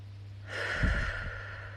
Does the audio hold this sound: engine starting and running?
no